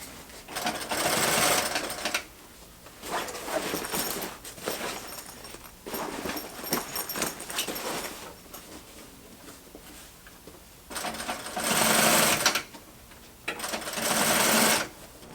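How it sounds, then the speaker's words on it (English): A sewing machine runs a half-inch seam on a giant homemade duffle bag in several bursts of fast, close, rattling stitching, separated by short pauses. "now I'm just sewing that seam with approximately a 1/2 inch seam allowance"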